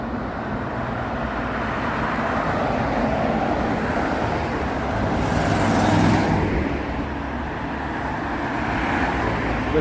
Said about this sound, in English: The traffic on Avenue Road is a bit bonkers. I mean, the cars just speed along here.